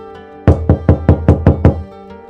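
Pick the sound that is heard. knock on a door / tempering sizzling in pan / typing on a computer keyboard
knock on a door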